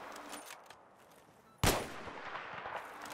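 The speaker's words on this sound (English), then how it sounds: "With the M40A5, I'm shooting towards the right side of the building" A single loud, sharp M40A5 sniper rifle shot in Battlefield 3, fired at a building. It cracks suddenly out of quiet ambient game noise and leaves a lingering, echoing tail.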